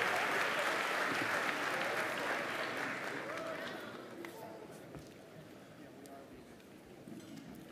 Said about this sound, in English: join me with another round of applause for our commencement ensemble